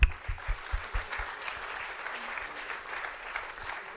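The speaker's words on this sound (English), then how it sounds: "Let's give them a huge round of applause." A live audience gives a round of applause for student performers, opening with a few sharp, distinct claps before settling into a dense, even patter of many hands that holds steady throughout.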